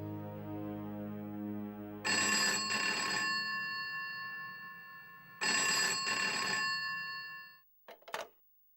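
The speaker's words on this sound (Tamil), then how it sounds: "இப்ப நான் அம்மாக்கு ஃபோன் பண்றேன்." A telephone rings on an outgoing call, giving two long, loud ringback bursts after a lower tone, then a brief click as the line connects, with no talk.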